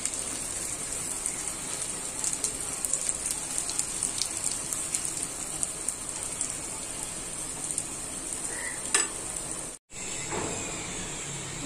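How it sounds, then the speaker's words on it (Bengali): A chapra flatbread frying over lowered heat in a pan with a little oil gives a steady, rain-like hiss with faint crackles, cutting out briefly near the end before resuming. "হালকা তেল দিয়ে ভাজব।"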